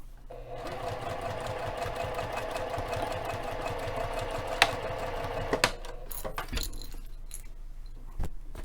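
Sewing machine stitching fabric at a stitch length near 3, a steady close hum for about five seconds, then it stops, followed by a few clicks and handling knocks.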